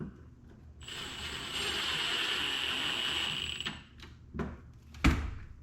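A screw is driven in while sound deadening is fitted inside a car. A steady whirring run lasts about three seconds, followed by a few short clicks and knocks close by, with no talk.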